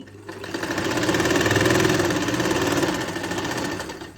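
A sewing machine stitching a kameez neckline along buckram interfacing hums nearby with a fast, steady needle chatter that swells then eases over a few seconds, alone with no voices.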